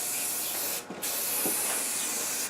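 A last quick coat of spray paint goes onto a Ford F-150 fuel tank: a close, steady hiss that pauses for a moment near the start, then carries on evenly to the end.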